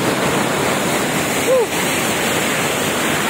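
Rushing water at Aliwagwag Falls, a steady loud roar of strong current filling the whole stretch, broken only by a brief high chirp near the middle.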